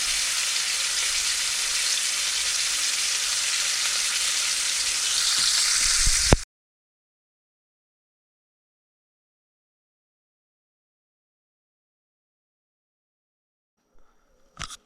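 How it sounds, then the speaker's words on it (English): Beef roast sears loudly in a hot pan, a dense steady sizzle for about six seconds before cutting to silence, with a couple of faint clatters near the end. "we're doing this sear. I'm going to flip it over. Sear on the other side."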